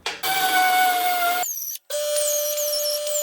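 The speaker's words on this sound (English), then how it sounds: "so we're gonna grind that off." A power tool grinds a ridge off square steel tubing for 1 3/4 inch tube in a truck camper jack build, giving a loud, close, high whining screech that stops briefly and then resumes at a different pitch.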